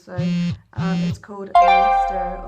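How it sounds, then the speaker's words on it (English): A mobile phone ringtone goes off during a makeup tutorial, playing two repeated tonal bursts and then a brighter melodic phrase, fairly loud and close, with someone talking around it. "That's my phone going off at the same time."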